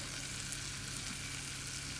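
Anchovies and petai stir-fried in spice paste sizzle in a hot pan, a steady dense frying hiss that stays even and close throughout with no talking.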